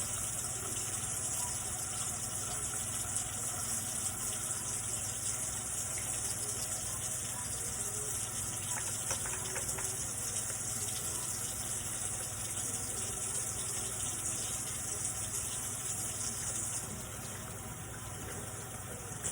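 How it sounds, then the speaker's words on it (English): Tap water runs in a steady, unbroken gush for a long stretch, with faint handling sounds of hands lathering with soap and washing under the stream. "running water."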